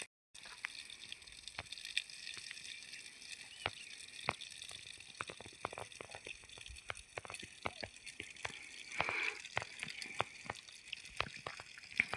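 Water trickles and splashes into a bottle while it is filled for carrying, a faint run of irregular drips and small pours against a quiet outdoor background, with no voices.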